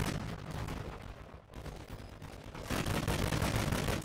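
Gunfire in the mobile battle royale shooter Warzone Mobile: continuous heavy shots and booming bursts pile up densely, with a brief dip before the firing swells louder again.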